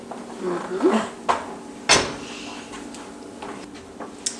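A heavy lid is set onto a pot of chicken soup, giving a single sharp metallic clank after some softer clatter of cookware, with a few lighter knocks trailing after it.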